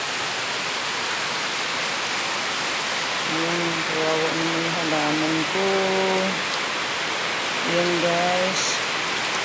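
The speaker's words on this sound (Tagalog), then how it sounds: "Umuulan na po." Steady rain pours down on potted plants with a dense, even hiss, close and loud, while someone speaks briefly over it.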